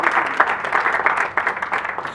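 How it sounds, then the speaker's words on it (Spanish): Audience at a talk on violence and security in Guatemala applauds for Edgar Guerra, a brisk burst of many hands clapping at moderate volume, fairly close, with no speech over it. "Un aplauso para Edgar Guerra."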